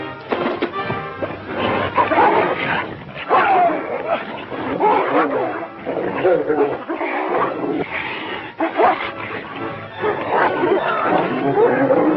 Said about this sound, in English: You don't want to hurt a nice dog like that.